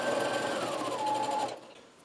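A sewing machine runs a steady, fast stitch along the edges of a homemade grocery bag, loud and close, then winds down and stops near the end.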